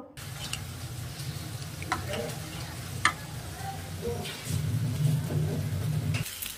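Hot pancakes cook in a pan with a steady soft sizzle, broken by a few sharp clicks and taps of a utensil, growing slightly louder near the end.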